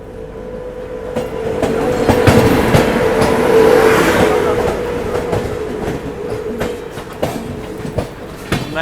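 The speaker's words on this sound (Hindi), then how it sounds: "बढ़िया क्रॉसिंग देखने को मिल रही है यहाँ पर बीना के आउटर में" Kerala Superfast Express passing at close range at the Bina outer, a steady loud rumble of coaches with repeated rhythmic clacks of wheels over rail joints, swelling in the middle and easing toward the end.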